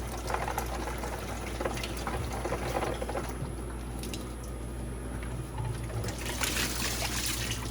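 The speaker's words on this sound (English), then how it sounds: "Then turn on your mop sink, swish it around." Water runs steadily into a mop sink, a continuous close splashing rush that holds at an even level from start to finish, with no voices over it.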